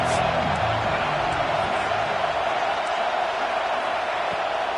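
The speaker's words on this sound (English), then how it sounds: "Big third down as the crowd gets behind this defense." A football stadium crowd roars steadily for the defense on a big third down in a USC game, a dense, loud and continuous wash of cheering with no break.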